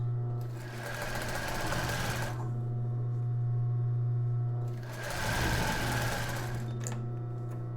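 A sewing machine stitches stretched elastic onto an embroidered tulle bra in two steady runs with a pause between them, the motor's hum clear and close, and a low constant drone underneath throughout.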